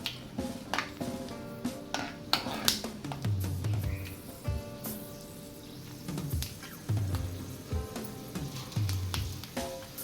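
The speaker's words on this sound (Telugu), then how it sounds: "ఆయిల్ హీట్ అయింది ఇప్పుడు కొద్దిగా పల్లీలు వేసుకుంటున్నాను" Peanuts fry in hot oil in a pan, giving a soft, intermittent sizzle broken by sharp clinks and scrapes of a utensil against the metal.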